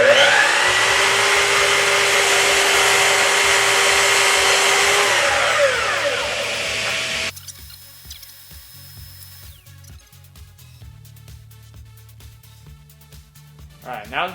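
A miter saw cuts a small board while a shop vacuum runs, a loud steady whine with rising and falling harmonics that stops abruptly, leaving quiet room noise with faint clicks and handling sounds.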